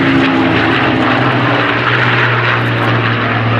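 A P-51 Mustang fighter with an Allison V-1710 engine flies at the Flying Legends airshow at Duxford, giving a loud, steady, close propeller drone with a deep throbbing engine note that continues throughout.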